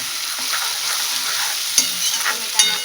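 Tomato fries with onion and garlic in a pan, a loud close continuous sizzle with soft stirring and two sharp utensil knocks.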